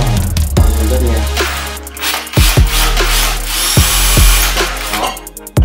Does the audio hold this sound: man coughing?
no